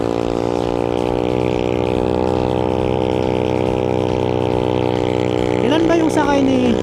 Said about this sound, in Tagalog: Rinig nyo yung tambutso ni kuya na malakas talaga yung tunog dahil sa part na to paangat at madulas po.